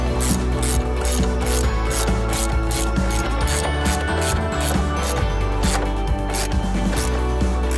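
An 8 millimeter wrench tightens a hose clamp during water pump work on a 2005 Ford Mustang GT, giving rapid, evenly spaced ratcheting clicks, close and loud, over a low mechanical hum, with no talk.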